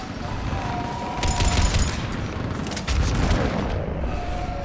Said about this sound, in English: On that building! We've got fire support!